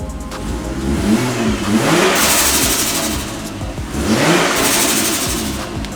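A Ford XR6 Turbo ute engine revs hard and falls back twice, each time followed by a sharp, airy whoosh from the turbo blow-off valve venting.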